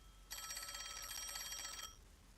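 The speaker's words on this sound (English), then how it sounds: "Oh, the phone. It's a call from the WDO." Telephone ringing in the game Master Detective Archives: Rain Code, a single continuous electronic ring lasting about a second and a half over quiet background hum.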